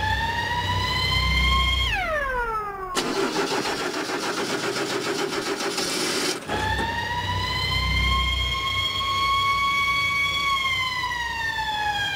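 A wailing ambulance siren sweeps up and down, nearby and loud, briefly switching to a harsh rapid yelp in the middle before returning to the wail.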